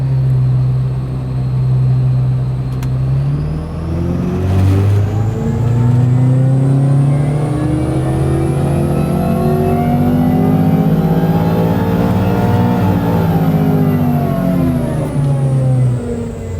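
A car on a dyno revs up through a long power run, the engine climbing steadily in pitch and loudness for many seconds before easing off near the end, loud and close with no talk.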